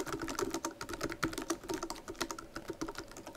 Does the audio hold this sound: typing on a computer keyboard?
yes